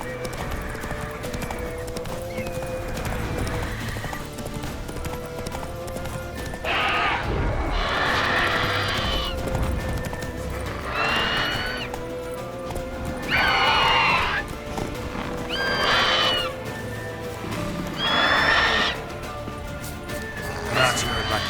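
Horse Roach from The Witcher 3 neighs repeatedly in bursts, with galloping hoofbeats and clip-clop throughout, while someone talks over the action.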